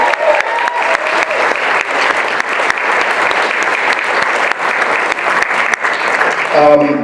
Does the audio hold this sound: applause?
yes